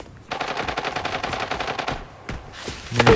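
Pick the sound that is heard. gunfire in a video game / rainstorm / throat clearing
gunfire in a video game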